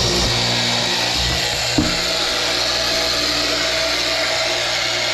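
A Tooltech Industry line boring machine bores shelf pin holes in wood, giving a loud, steady mechanical whir and grind close by, with a brief thud partway through and no talking.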